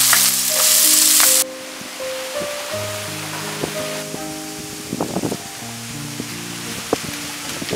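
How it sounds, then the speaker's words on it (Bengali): Potatoes for ghugni fry in hot oil in a wok. A loud, dense sizzle opens the clip and then settles into a softer crackle beneath background music. "এবার আমি ঘুগনির আলুগুলো ভেজে নেব।"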